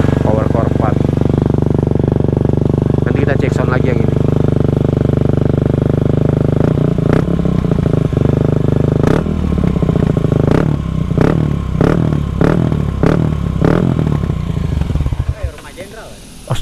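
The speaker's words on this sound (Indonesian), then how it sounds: "Ini knalpotnya FMF." A motorcycle fitted with an FMF exhaust idles loudly up close, then gets blipped in a quick series of sharp revs that rise and drop repeatedly, with voices briefly heard.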